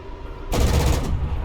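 A burst of aircraft cannon fire in the combat flight game War Thunder, with a Mirage 2000 in the fight: a loud, dense, rapid rattle that starts abruptly and runs for about a second alone.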